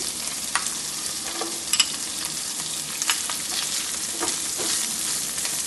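Raisins and cashews frying together in a pan make a steady, close sizzle broken by a few light stirring clicks and scrapes.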